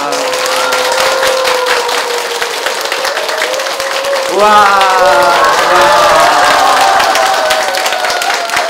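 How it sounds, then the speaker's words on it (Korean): A crowd claps and cheers at a Buddhist monk's invited dharma talk, with a tonal voice or music sliding over the clapping and swelling partway through. "저 박수 안 쳐줄까봐 제가 먼저 쳤는데 괜히 친 것 같아요."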